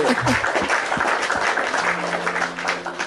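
A small group claps at close range, a dense patter that holds steady for about three seconds, with a faint low hum running underneath.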